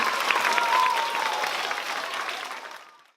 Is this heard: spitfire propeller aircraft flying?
no